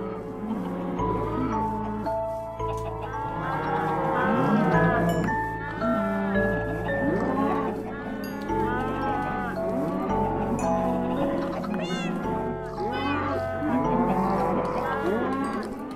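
Minecraft cattle lowing again and again throughout, several overlapping moos of varying pitch over a steady game backdrop, fairly loud and with no talk.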